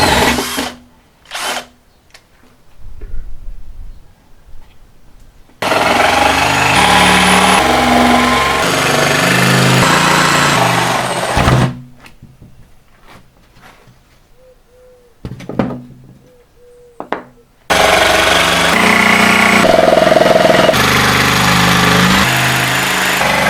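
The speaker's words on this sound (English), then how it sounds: "I'll drill a hole and then cut along this line." A power tool bores a hole in plywood and then cuts out a circle, with loud, sustained whining runs broken by quiet pauses filled with handling noises.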